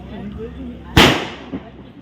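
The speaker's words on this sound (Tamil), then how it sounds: "ஏய் இவங்க வேற பட்டாசு வெச்சு பயமுறுத்துறீங்க." A single sharp firecracker bang, loud and close, with a smaller pop half a second later, over a steady background murmur of an outdoor family gathering in Yercaud.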